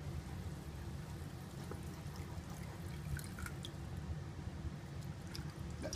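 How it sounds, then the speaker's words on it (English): Water poured into a pan of white jambalaya mixed with creamy soup, giving a steady, low, close liquid pour and dribble with faint drips throughout and no talking. "Let's add a little bit of water."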